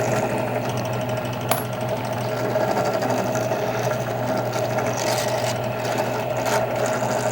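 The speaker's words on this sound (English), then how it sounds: "if I just get my process going here, we're going to trim." Brass rifle cases being trimmed on a Dillon XL650 reloading press, giving a steady, loud mechanical whir and hum that runs continuously, with a single sharp click partway through and no voices.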